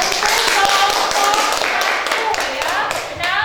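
A classroom of students clapping in a short burst of applause, a dense patter of many hands close by, with a voice speaking alongside.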